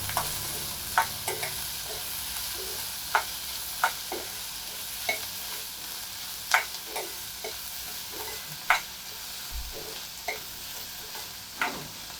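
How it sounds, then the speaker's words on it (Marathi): Finely chopped onion sautés in a pan with a soft steady sizzle, as a spatula knocks and scrapes the metal about once a second, moderately quiet and with no voices. "हा जो बारीक चिरलेला कांदा आहे तो मी आता घालते तो आपण छान परतून घेऊया"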